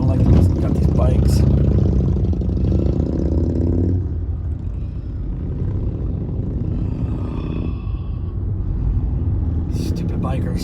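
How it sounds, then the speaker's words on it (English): Motorcycles lane splitting past a car in traffic, loud engine rumble and revving close by for the first few seconds, then a quieter road drone with another pass near the end, someone talking over it. "Stupid bikers. Lane splitting."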